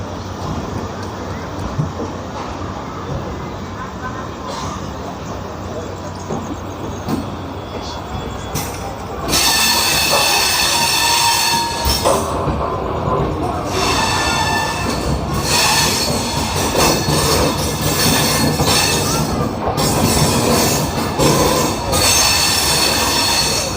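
The Sampoorna Kranti Express pulling out of Rajendra Nagar Terminal, heard loud and close from aboard, with rumbling wheels and squealing rails swelling as it gathers pace, and someone speaking over it.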